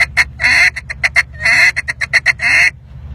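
Duck call blown in a contest-style feed, close and loud: rapid staccato runs of quacks interspersed with longer drawn-out drag quacks, in quick rhythmic bursts that stop abruptly near the end.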